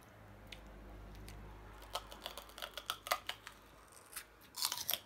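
Someone bites into a chilli up close, producing a series of sharp, crisp crunching clicks in uneven rhythm that grow denser toward the end, with no talking.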